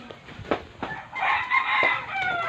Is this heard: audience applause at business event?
no